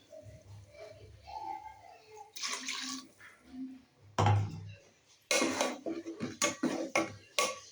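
Water splashes and pours into a pan of fish curry in several separate bursts, close and fairly loud, with a low murmur near the start.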